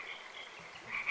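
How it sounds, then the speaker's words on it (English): Frogs croak in the video game Life(Forms), a short chorus of repeated, fairly faint calls that swell louder toward the end, with no talking. "frogs."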